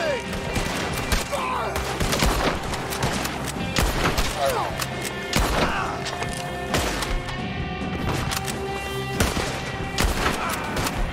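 Rapid volleys of gunfire from a Red Dead Redemption 2 shootout crack out close and loud, repeating steadily throughout with dense overlapping shots and crashes over a busy, noisy background.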